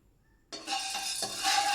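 Dry spices for a Kundapur-style bangude (mackerel) fish curry being fried in a pan: after a short near-silence, a sudden bright sizzle starts and swells, with faint stirring scrapes, close by.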